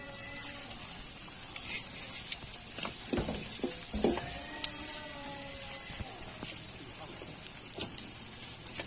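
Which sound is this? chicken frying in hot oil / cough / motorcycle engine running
chicken frying in hot oil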